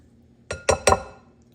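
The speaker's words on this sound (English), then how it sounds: "I have 1 can of chopped green chilies here, and I'm just gonna dump that whole can in there." Chopped green chilies dumped from a can into a glass bowl, three quick clinks in a row, close and crisp, with nothing else around them.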